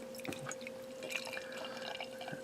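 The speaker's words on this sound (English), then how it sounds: "let's add insult to injury by pouring it into a glass" Beer pouring into a glass, an ongoing wet trickle with small splashes and drips, fairly close and steady with no voices.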